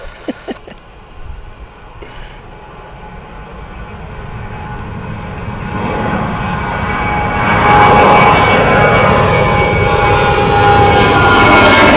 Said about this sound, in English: Ryanair inbound next. This is the Dublin flight here.